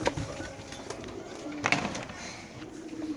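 Caged pigeons at a bird market coo softly amid a busy, noisy background, with brief knocks and rustles nearby.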